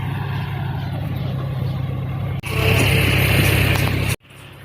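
A farm vehicle's engine rumbles steadily in a muddy paddy field where another vehicle had bogged down, swelling louder and rougher for a couple of seconds before cutting off abruptly, then resuming faintly.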